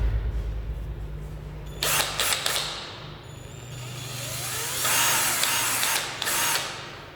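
A cordless 24V drill with drill, screwdriver and hammer modes whirs in several short bursts of varying length, each spinning up and winding down, close and clear with quiet pauses between.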